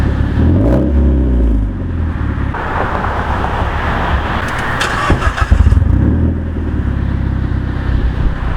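A Mazda 3 with a straight-piped exhaust revs and rumbles up close, rising in a deep throaty roar, dropping back, then revving again.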